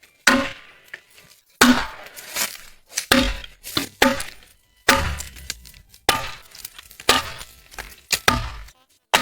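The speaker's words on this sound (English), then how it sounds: "He first cuts out the grooves, and then uses his black cleaver to chop them" A black cleaver chopping a wooden log roof beam flat outdoors in snow, sharp woody thwacks struck one at a time at an irregular, steady pace, close and loud, each followed by a brief ringing decay.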